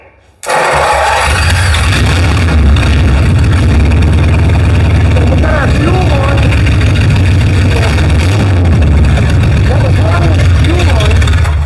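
A flathead engine cranks and catches abruptly, then runs loudly and steadily with a rough, throbbing idle. People talk briefly over the running engine.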